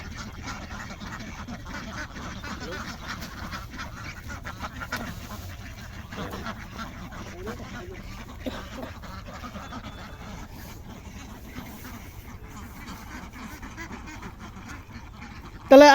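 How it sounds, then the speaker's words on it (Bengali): A large flock of ducks on a duck farm quacks continuously at a moderate distance, a dense low chatter of overlapping calls, with a sudden loud bump at the very end. "এখানে মোট 312টা হাঁস আছে।"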